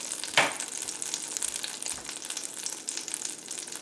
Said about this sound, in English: Let's put in our egg ever so gently